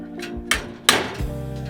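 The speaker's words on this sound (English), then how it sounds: "if you take your hammer, just tap that" A hammer taps a metal eave corner on a VersaTube steel building frame: two or three sharp, close knocks spaced under a second apart, with faint ringing between them.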